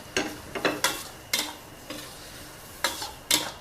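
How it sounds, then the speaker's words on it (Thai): Glass noodles and pork being stir-fried with spring onion and coriander stems in a pan, sounding as a series of sharp scraping and tapping strokes of a utensil against the pan with faint sizzling between them, close and alone. "ผัดให้ทุกอย่างสุก"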